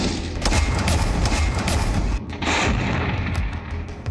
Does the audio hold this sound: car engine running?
no